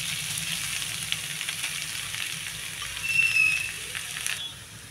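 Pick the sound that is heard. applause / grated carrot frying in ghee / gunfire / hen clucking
grated carrot frying in ghee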